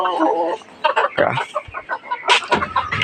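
A hen clucks in short, close bursts, with other fowl calls and some nearby noise mixed in.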